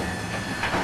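A huge, heavy freight train in a railway yard gives a close, steady metallic rumble and hiss, with a brighter scraping swell near the end.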